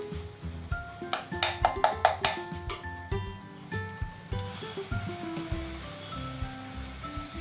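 Ginger garlic paste added to a little hot oil in a pan for a home-cooked pea and cashew curry gives a soft crackling sizzle, with a run of clinking utensil taps near the start.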